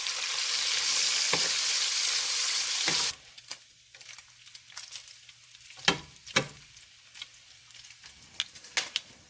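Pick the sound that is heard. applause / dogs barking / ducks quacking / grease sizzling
grease sizzling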